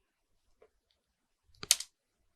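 Brief burst of a few rapid computer keyboard keystrokes, close and fairly quiet, preceded by a faint isolated click.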